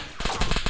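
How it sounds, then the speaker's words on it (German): Saphir weapon firing in a German-played multiplayer shooter game, a short rapid burst of several sharp loud shots in quick succession. "Der ballert mit seiner Saphir."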